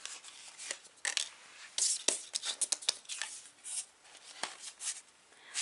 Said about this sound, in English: So I'm going to shuffle one oracle card for you